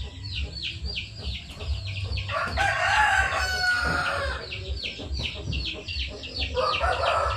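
Shamo Aseel chickens on a backyard farm: a rooster crows several times in a row, mixed with steady clucking from the flock, fairly close and loud against a low background hum.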